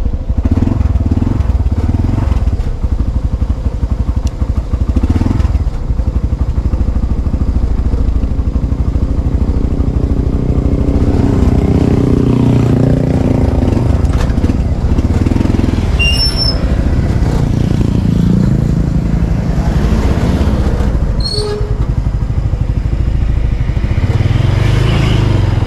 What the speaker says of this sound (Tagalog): Painitin ko muna ng konti yung aking motor.